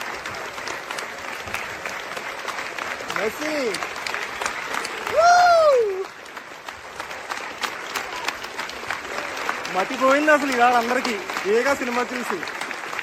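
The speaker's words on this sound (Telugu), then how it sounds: "అసలు ఫ్రెంచ్ క్రౌడ్ ఈ లెవెల్లో క్లాప్స్ కొడుతున్నారండి" A French audience at a Paris special screening of Rajamouli's film Eega keeps up dense, sustained applause. Someone talks close by over the clapping, and cheering swells now and then.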